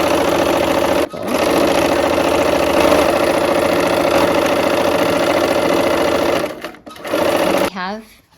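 A sewing machine runs steadily as it stitches rows of a quilt together, a loud continuous whirring hum that halts briefly, resumes, then stops near the end.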